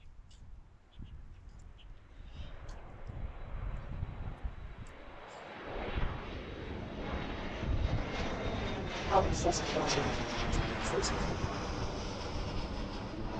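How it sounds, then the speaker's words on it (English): A Delta Embraer E175 regional jet takes off from Washington Reagan National Airport, heading for LaGuardia. Its engines build from a distant rumble into a loud, rising roar and a high whine over about thirteen seconds, with faint talk beneath. "There goes the Delta E-175 off to LaGuardia."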